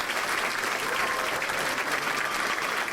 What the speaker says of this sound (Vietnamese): Chúng ta vỗ tay cho 2 người chúng tôi.